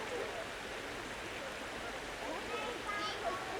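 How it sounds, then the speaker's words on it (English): A river runs alongside the Huddersfield Narrow Canal towpath near Saddleworth, giving a continuous broadband rush of flowing water, fairly faint and steady, with no voices. "the river is alongside us again here"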